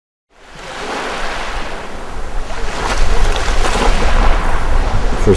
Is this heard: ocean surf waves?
yes